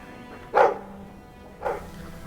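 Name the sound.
dog barking in a video game (Dragon Age 2)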